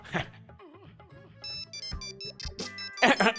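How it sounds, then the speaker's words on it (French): A mobile phone rings indoors with a melodic electronic ringtone of tonal beeps, close and clear, framed by brief sharp noises at the start and end. "Son téléphone sonne."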